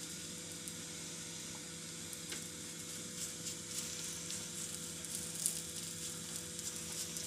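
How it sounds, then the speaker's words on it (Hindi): Cheese paratha roasting in ghee on a hot tawa, a steady soft sizzle that runs evenly throughout with no voices over it. "असीं तवे ते पाता ते इहनूं सेक लवांगे।"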